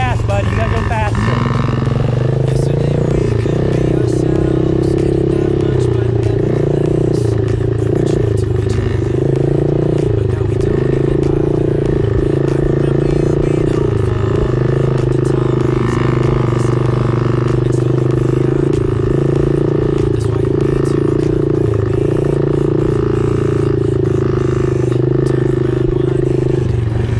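A Yamaha PW50 kids' dirt bike engine drones and revs steadily at close range for the whole stretch, its pitch rising and dipping slightly, while people talk over it.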